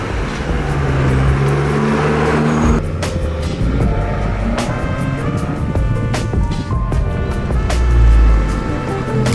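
A Fiat 500 Abarth 695 Tributo Ferrari drives on city streets, its engine droning loudly and steadily from inside the car, with shifting pitch, road rumble and a brief surge near the end.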